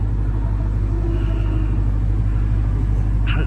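Jeep Trackhawk driving in the aftermath of Hurricane Milton, a loud, steady low rumble of engine and road noise heard from inside the cabin, with no break.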